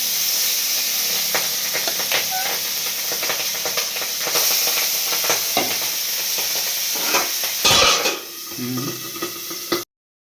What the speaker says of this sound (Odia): ଏ ମାଛଟା ଭାରି ଫାଟୁଛି